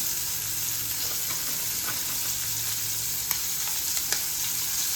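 Pieces of hilsa fish, salted and sprinkled with turmeric, sizzling steadily in hot oil in a pan, with a few faint clinks over the constant, close frying hiss.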